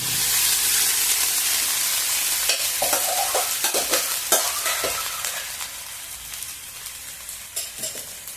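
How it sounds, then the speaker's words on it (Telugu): Gongura (sorrel leaf) rice is stirred in a hot pan, a loud hissing sizzle that fades as repeated scraping strokes of the spoon mix the rice, with no talk. "ఇంకా బాగా కలుపుకున్నాము"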